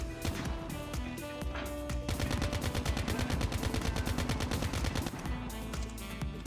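An ICR-1 assault rifle fires in COD Mobile in a fast sustained automatic burst of sharp, loud, evenly spaced shots, with scattered single shots before and after.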